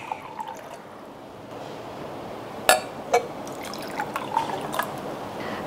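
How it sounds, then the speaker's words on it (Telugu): Water being poured and divided into two glasses, with a quiet trickle and a few sharp glassy clinks and drips near the middle and end of a calm, voiceless stretch. "నేను 2 గ్లాసెస్లో డివైడ్ చేసి వాటర్ని పోసుకుంటున్నాను."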